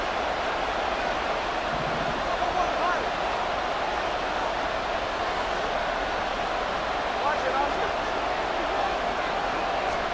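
A Buffalo Bills football stadium crowd roars during an NFL game against the Dolphins, a broad continuous distant wash of noise that holds steady throughout without distinct peaks.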